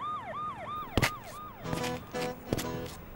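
A wailing ambulance siren sweeps up and down in repeated arcs, close and loud, joined by sharp electronic yelp bursts and a short honk-like blast partway through.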